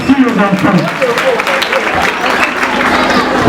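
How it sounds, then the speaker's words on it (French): Children clapping at an official school launch event in a crowded room, an uneven patter of applause mixed with voices and an adult speaking over it throughout. "Les enfants, je vous demande aussi d'applaudir."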